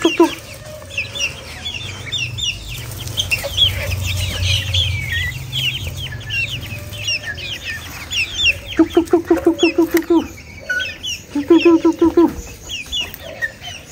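Serama chickens in a breeding pen give bursts of rapid, rhythmic clucking, loud and close, with scattered softer clucks and low rumbling noise between them.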